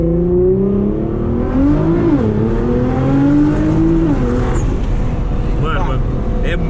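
A Nissan GT-R R35 (730 hp) engine revs and accelerates loudly nearby, pitch climbing and dipping through gear changes, with the drone continuing steadily.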